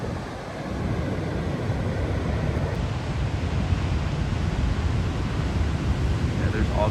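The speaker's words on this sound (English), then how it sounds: "Where the waves kind of weirdly separate and collide" Ocean waves break and wash on a beach with rip currents, a broad continuous surf roar rising after a quieter start, with wind buffeting the microphone and a voice speaking briefly.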